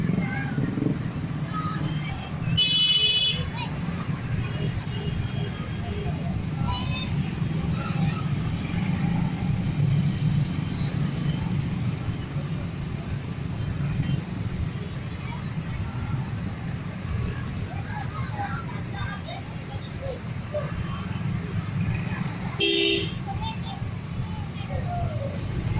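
Heavy, slow-moving traffic jam in Makassar rumbles continuously as idling cars and trucks crawl along, with a couple of brief horn-like tones and faint voices in the background.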